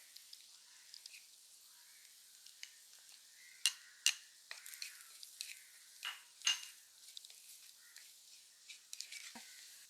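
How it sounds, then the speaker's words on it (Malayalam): Shallots and green chillies sautéing in a pan, a soft steady sizzle with light stirring and occasional sharp utensil clinks against the pan, close and fairly quiet with no voices. "അതുപോലെ തന്നെ ചെറിയുള്ളിയും പച്ചമുളകും ഒക്കെ ഒന്ന് വഴന്ന് വരുന്നുണ്ട് കേട്ടോ"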